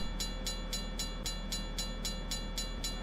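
A locomotive rolls past a railway level crossing near a newly installed electric line, giving a steady loud rumble with a regular clickety-clack of wheels over rail joints repeating about every quarter second.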